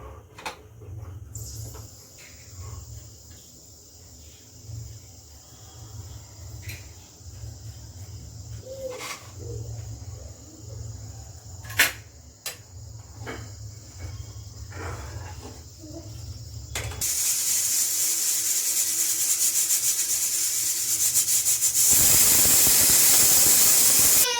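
A pressure cooker cooking veg pulao hisses and whistles; quiet clicks and a faint tone give way to a loud, steady rush of escaping steam that builds and continues to the end.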